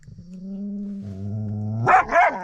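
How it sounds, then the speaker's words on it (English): A dog's drawn-out whining howl rising in pitch, ending in two short barks close by. "There's no need for you to bark."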